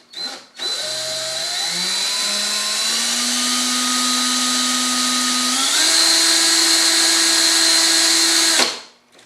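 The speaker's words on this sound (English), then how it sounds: "I'll pop my drill into high speed and show you that it can be done a little bit quicker." A power drill spinning at high speed while winding alien coil wire, a loud steady whine that starts up, rises in pitch in steps and holds for several seconds before cutting off, with no talk.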